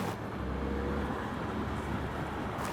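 Steady broadband road and tire roar inside an Audi Q3 Quattro on Pirelli Scorpion all-season OE tires cruising around 54, continuous and even with no talking.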